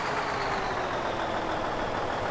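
Truck in Farming Simulator 2015, hauling wheat to a hopper and braking: a steady, loud engine and rumble with broadband hiss through the whole stretch, and no voices.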